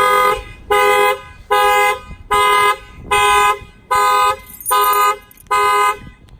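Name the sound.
car alarm sounding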